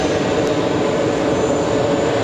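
A KLM airliner takes off at JFK International Airport, its engines giving a steady, broad roar that holds at a constant level for the whole stretch, with no voices over it.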